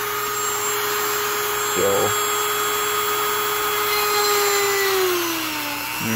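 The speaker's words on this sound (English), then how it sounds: "I got a little pointy, grinder here on the end of my Dremel tool that's drawn right through there" A Dremel rotary tool fitted with a small pointed grinding bit bores through an aircraft firewall during a Cessna 150 build. Its steady high motor whine runs throughout and winds down near the end, with a brief spoken word.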